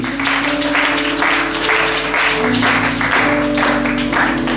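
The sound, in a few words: congregation cheering and applauding the Lord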